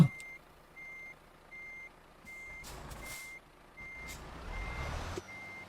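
A KSRTC Swift bus in Euro Truck Simulator 2 sounds its reversing alarm, a steady series of evenly spaced beeps repeating throughout, with a hiss of air brakes and engine rumble near the end.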